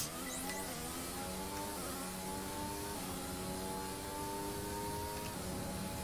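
F1 car engine in the F1 2020 racing game pushed hard, a high revving whine with climbing pitch and quick shifts, steady and constant, quietly mixed, without any talk.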